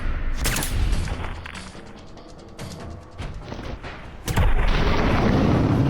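Loud gunshots ring out in Fallout 4 as a charging bear is fired on, with several heavy reports and booms spaced a beat apart, the last one followed by a long roar of noise.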